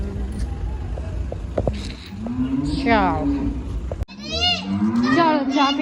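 A cow moos twice nearby, with long, loud drawn-out calls in the second half, over faint background noise and a brief passing vehicle, with no talk.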